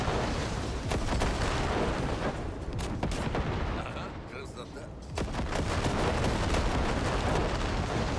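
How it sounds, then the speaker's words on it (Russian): Dense, continuous gunfire and heavy booming blasts fill a Cyberpunk 2077 video game battle, loud and unbroken apart from a brief lull midway. "За шумом выстрелов вообще никогда не слышно."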